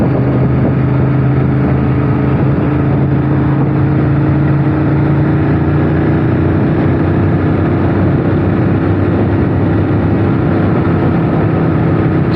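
A Honda VTR1000 Firestorm V-twin motorcycle accelerating on a ride, a loud continuous engine drone with a slowly shifting pitch and steady wind rush throughout.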